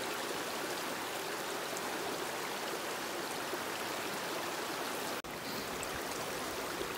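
A cold mountain stream near the Yellowhead Mountain trail in Mount Robson Provincial Park rushes steadily, a close, full and constant wash of flowing water with a brief dropout near the end and no voices.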